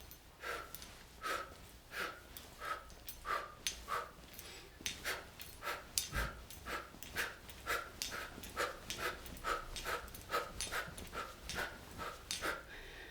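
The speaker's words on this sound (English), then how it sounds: "I'm already kind of panting a little bit" Rhythmic, rapid panting breaths close to the mic, each a short sharp exhale in a steady repeating pattern, with no talking.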